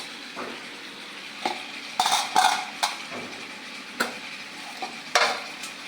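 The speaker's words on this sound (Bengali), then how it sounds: "এই ঢাকনা দিয়ে ঢেকে দিলাম" Clatter of a lid and utensils on a pan of frying sweet pumpkin with rohu fish, several sharp clinks and knocks over a soft steady sizzle, close up, no talk.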